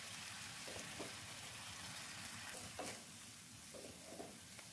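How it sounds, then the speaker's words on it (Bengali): Spice paste with grated coconut frying gently over low heat for a ridge gourd (jhinga) dish, a soft steady sizzle and hiss with a few faint stirring scrapes, no voices. "কম আঁচে মশলাটাকে ভাজছি।"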